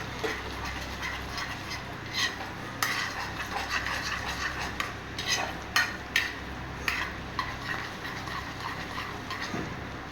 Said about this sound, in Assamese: এতিয়া মই এই মাংস ভজা তেলতে আদা কটাখিনি, নহৰুখিনি আৰু এই জলকীয়া কটাখিনি দি দিম।